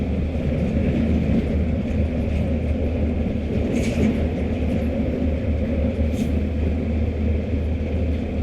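Heavy trucks roll past on the Pantura highway near Patrol, Indramayu, Java, heard from a moving motorcycle as a loud, continuous roar of engines and tire rumble with wind, no talking.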